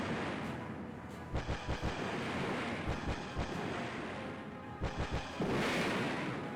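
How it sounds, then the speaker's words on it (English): Rapid-fire Vulcan cannon in the Battle Engine Aquila video game destroying a building: short clusters of sharp, booming shots burst out over a constant low rumble, with several quick volleys spread across the clip. "And now the building's destroyed."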